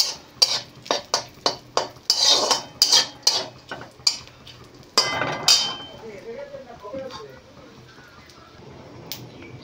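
Dry fruits and sunflower seeds are stirred while lightly roasting in a pan, a run of sharp spatula clinks and rattles up close that eases into a softer rustle, with a person talking.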